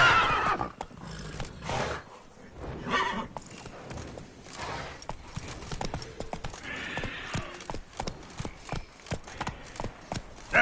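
Roach, the horse in The Witcher 3, gives a loud, drawn-out whinny at the start, followed by steady clip-clopping hooves and further snorts over game ambience.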